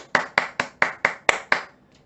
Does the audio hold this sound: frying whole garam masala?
no